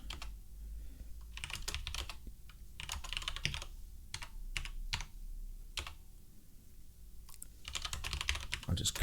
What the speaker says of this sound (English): I hope that my keyboard isn't too loud